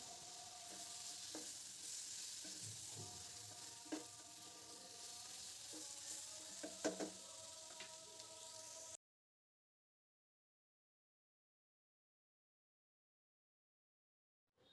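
Chopped tomato sizzles in a pan for spinach curry, with a soft steady hiss and a few clinks of stirring. The sound runs for about nine seconds and then cuts to silence.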